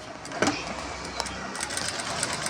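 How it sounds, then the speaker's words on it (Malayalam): A sewing machine stitches the two sides of a halter neck blouse with its lining, a steady fast mechanical whir with light rhythmic ticking running continuously, close up. "ഇനി നമുക്ക് ഈ 2 സൈഡും ഒന്ന് സ്റ്റിച്ച് ചെയ്തെടുക്കാം."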